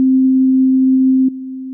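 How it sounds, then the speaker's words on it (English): A synthesized sine-like tone holds a steady low pitch, loud and constant, then drops abruptly to a noticeably quieter level partway through, with a small click at the jump and no other sounds. "a synth patch I created that just changes in volume"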